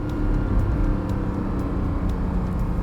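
Porsche Cayman GTS 4.0 on track at Circuit Estoril in Portugal, in Sport Plus mode: a steady, loud engine drone with low rumble, heard from inside the car and sustained throughout.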